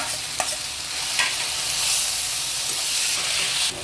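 Noodles with carrot, cabbage and tomato sizzle and hiss in a hot pan as an egg goes in, with steady frying and a few stirring scrapes close up.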